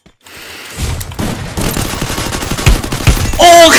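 Shotgun fire in the battle-royale game Free Fire: a rapid, loud barrage of overlapping blasts that builds after a quiet start, ending on a sharp ringing tone.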